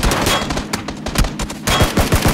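Rapid bursts of gunfire from a driving shooter video game crackle loudly in clusters, with short gaps between volleys and no talking.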